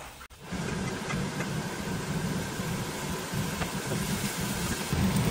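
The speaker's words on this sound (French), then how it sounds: "Je mets la hotte" A steady, even whoosh of a range hood fan runs close by throughout, a constant broadband hum with no voices.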